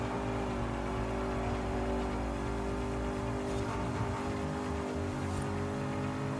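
A Honda S2000 in Forza Horizon 5 holds a steady, loud engine drone with dense layered harmonics, sustained at high revs throughout with no talk over it.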